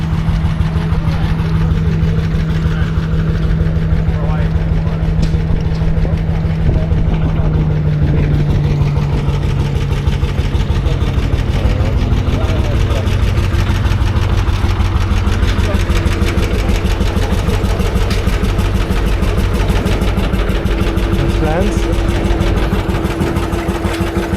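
A Nuffield tractor engine runs steadily at a ploughing championship field event, a continuous low diesel drone throughout with a held tone that shifts slightly partway, crowd and speech murmuring over it.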